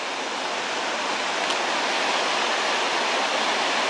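Steady, dense roar of a mountain waterfall near Mittenwald in the Karwendel area, heard close and loud as an unbroken broadband rush with no voices.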